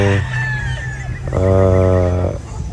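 A Gilmore Black gamefowl bull stag rooster crows loudly and close by, giving one short call and then a longer, sustained crow with no talking.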